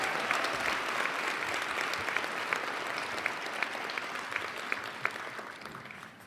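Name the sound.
audience applause for graduating class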